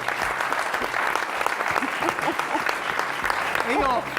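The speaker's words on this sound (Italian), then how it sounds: "facciamogli un applauso." A television studio audience breaks into applause during an Italian local sports talk show, with loud, continuous crowd clapping throughout and voices speaking over it.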